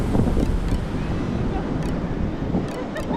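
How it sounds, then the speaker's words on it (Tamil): Sea waves surge forcefully against rocks along the cliffs at Manapad Beach, making a continuous, loud roar of water and surf with wind buffeting the microphone. "கடல் அலை வந்து செம்ம ஃபோர்ஸாக அடிக்குதுங்க."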